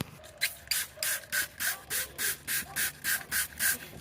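Rapid, rhythmic pump-spray bursts of K2 Velor ceiling cleaner liquid onto a coffee-stained car headliner, about a dozen evenly spaced hisses, close and fairly loud with no talking.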